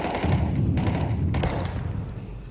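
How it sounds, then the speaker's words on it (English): Gunfire in the video game Counter-Strike 2 during a Shanghai Major playoff match: a couple of sharp, loud close shots with booming tails over game ambience, no talk. "Is that a warning shot?"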